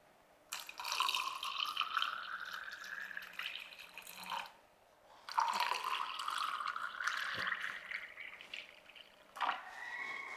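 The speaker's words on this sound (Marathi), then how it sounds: "ग्लासमध्ये एक एक चमचा सब्जा टाकूया आणि वरतून तयार केलेलं सरबत ओतायचं आहे" Chilled mango and jaggery sherbet is poured into glasses holding soaked sabja seeds, giving two steady liquid streams with a rising fill tone, each lasting several seconds, close and clear.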